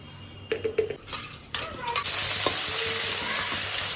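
Prawns frying in a pan, lemon juice, salt and turmeric already added; a few clinks and scrapes give way to a loud, steady sizzle that fills the rest, close by with no talk.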